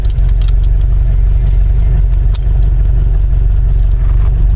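A 1950s Porsche 550 Spyder sports car drives with a steady, loud engine drone from inside the cockpit, a constant low rumble holding under light rattles and clicks throughout.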